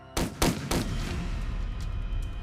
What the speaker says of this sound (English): He hears a series of gunshots go off in his own house